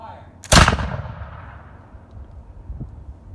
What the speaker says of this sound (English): So, cock fire lock. Aim. Loud noise. Fire.